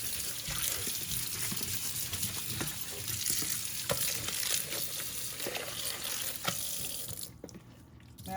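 A bowl washed under a running tap in a home kitchen sink, with a steady close stream of water and splashing plus scattered clinks, the flow cutting off near the end.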